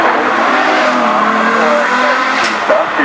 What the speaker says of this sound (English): It's a 6-litre naturally aspirated V12 from Mercedes, 800 horsepower.